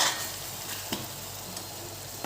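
Local chicken curry being stirred in a pan, with a spatula scraping and turning the pieces over a continuous soft sizzle, a couple of brief clinks punctuating the stirring.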